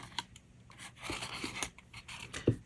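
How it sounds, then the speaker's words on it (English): Scissors snip an angled corner from a folded paper card: a few quiet, close crisp cuts and small paper rustles, with a faint click at the end. "we got to cut that corner. So we're going to cut a little angle out of there."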